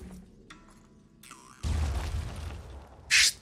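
A demolition shot explodes in the video game Phoenix Point: a sudden loud boom with a rumbling blast that lasts about a second, followed shortly by a sharp, brief high crack, after quieter electronic interface tones.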